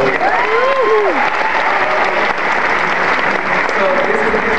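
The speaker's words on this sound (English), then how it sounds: "a healthy smattering of applause" University audience applauding during a talk by actor B.D. Wong at NAU, a steady smattering of clapping with whoops and voices rising through the crowd.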